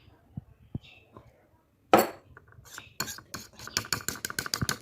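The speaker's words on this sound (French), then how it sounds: "Je mélange, surtout mélanger à chaque fois." Aloe vera being stirred into a homemade night cream paste, a spoon clicking and scraping against a bowl in a quick, steady run of close taps that grow busier toward the end.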